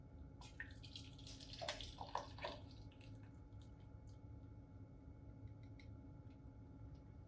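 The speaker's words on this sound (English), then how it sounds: "Now I'm going to just pour this back into my stock pot." Soup pours back into a stock pot with a short, liquid splashing burst, then a quiet, steady trickle and drips in a kitchen.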